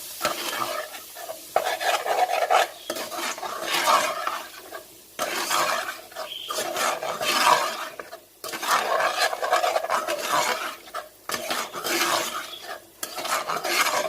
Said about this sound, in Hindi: अब इसे मैं भूनूंगी ज़रा सा 2 मिनट इसके साथ।